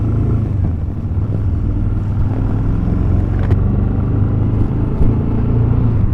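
A Royal Enfield Super Meteor 650 motorcycle rides along with the clutch being let out, a loud steady low engine drone and rumble mixed with wind, close and continuous with no talk.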